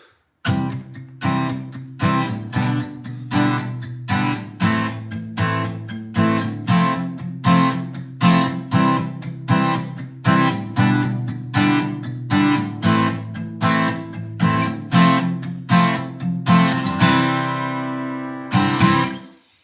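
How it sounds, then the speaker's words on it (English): Rhythmic palm-muted strumming on an acoustic guitar, choppy chords repeating in a steady bouncing pattern, ending on a ringing strum. "making use of the combination of palm muted notes"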